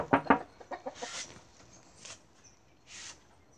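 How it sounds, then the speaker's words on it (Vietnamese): Backyard chickens in Melbourne cluck close by in a quick burst of short notes, followed by a few softer, scattered clucks and rustles. "Đây là mấy con gà nuôi chơi."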